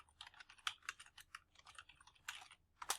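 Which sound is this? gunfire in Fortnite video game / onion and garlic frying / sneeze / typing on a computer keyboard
typing on a computer keyboard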